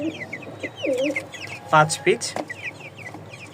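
Fayoumi hens clucking and calling in a pen, several birds with short repeated clucks and higher squawks close by, while a person talks over them.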